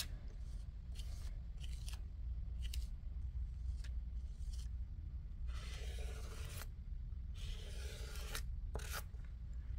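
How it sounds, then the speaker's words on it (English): Icing scraped across a stencil to make homemade sprinkles, a series of short dry scraping strokes of varying length, close up with a low steady hum behind and no talk. "I am scraping away"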